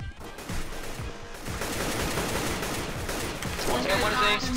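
Rapid gunfire in the video game Counter-Strike: Global Offensive, a fast run of repeated shots through the clip, with players talking over it.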